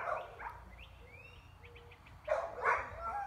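Other dogs bark in the distance during a dog distraction training session, a few scattered short yips and woofs with a louder cluster of barks near the end, over quiet outdoor background.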